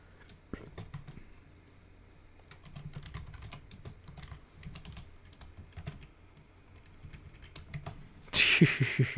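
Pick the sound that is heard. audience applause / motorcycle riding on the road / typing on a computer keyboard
typing on a computer keyboard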